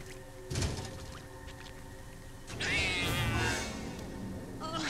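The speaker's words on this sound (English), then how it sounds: "I have to beat up a cat?" A cat in an X-Files video game meows in a drawn-out wavering cry over a steady game backdrop, coming after a soft thump earlier on.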